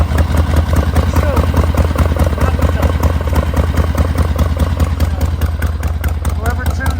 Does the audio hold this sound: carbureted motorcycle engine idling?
yes